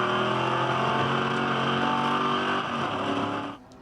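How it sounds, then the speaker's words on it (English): On-board V8 engine of a Holden Commodore ute racing at Barbagallo Raceway, a loud continuous roar held at high revs, easing off slightly near the end. "The action with Craig Dontis in the Thirsty Camel Commodore with the Extreme Clutches in car"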